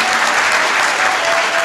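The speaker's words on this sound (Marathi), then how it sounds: "टाळ्या वाजवायची सवय नाही का तुमच्याकडे?" An audience at a comedic kirtan, a Marathi devotional storytelling performance, claps together in a dense, steady round of applause, loud and continuous throughout.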